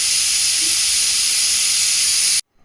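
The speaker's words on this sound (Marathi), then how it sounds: "आता 5 शिट्ट्या होऊ देऊ. 5-6 शिट्ट्या होऊ द्यायच्या" A pressure cooker cooking kulith usal lets out a loud, sustained steam whistle, a harsh, close hiss that holds steady for over two seconds and then cuts off abruptly into near silence.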